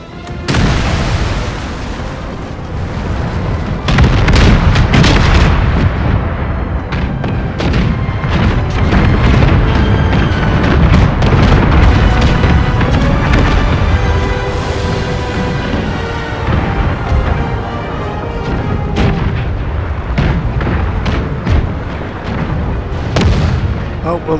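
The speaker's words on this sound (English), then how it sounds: "I want a broadside on this." Naval cannon broadsides boom across a Total War: Empire sea battle as ships exchange fire and one explodes, a loud, dense, continuous roar of heavy booms and blasts with a voice talking beneath.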